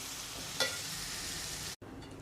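Mango pieces sautéing in a pan on a low flame, giving a soft continuous sizzle with one brief stirring clink, a momentary dropout, then the gentle hiss resumes.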